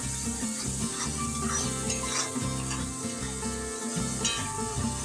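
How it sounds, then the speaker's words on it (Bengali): Masala spices frying in a pan while being stirred for a taro-plant (kochu) curry: a steady close sizzle with scraping and stirring strokes throughout, no talk. "কিছু সময় নেড়ে একটু ভেজে নেব মশলাটা"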